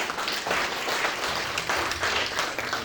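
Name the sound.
audience applause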